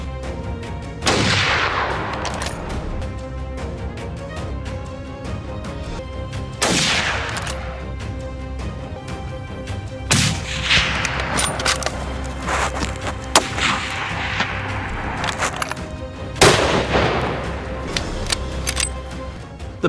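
Large caliber rifle shots ring out during a black bear hunt outdoors, several loud sharp cracks spaced seconds apart, each followed by a decaying echo over a steady background.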